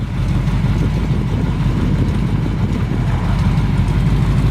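A 1972 Chevrolet K10 pickup with a 454 V8 and dual exhaust through cherry bomb mufflers idles close by, a loud, steady deep rumble with a fast, even low pulse throughout.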